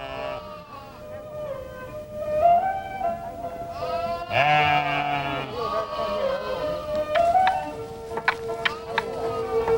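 A flock of about forty sheep and goats bleats repeatedly at close range, with overlapping calls of varying pitch from a herd grazing on open steppe pasture, and some voices mixed in.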